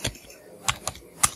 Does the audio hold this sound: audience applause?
no